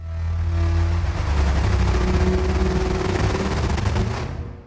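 A synthesizer percussive patch from a dark ambient setup produces a dense, rapid rattling clatter that churns loudly and continuously before tailing off at the end.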